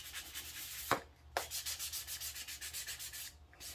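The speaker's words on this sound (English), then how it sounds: "you're just going to sand until you get some of the wood to show through." Hand sanding a Baltic birch wooden toy with sandpaper, steady close rhythmic rubbing strokes with a couple of sharper scrapes, faint and alone without talk.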